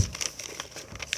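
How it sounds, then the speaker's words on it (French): Sheets of paper are crumpled by hand to stuff a pair of shoes, giving a quick burst of close, crisp crinkling and rustling with no talk. "On va remplir ces chaussures de papier."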